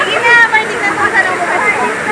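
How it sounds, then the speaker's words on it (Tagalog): A low waterfall at Bolinao, Pangasinan, gives a steady, loud rush of falling water that fills the whole moment without pause, while someone speaks over it. "ito yung isa sa tatlong falls"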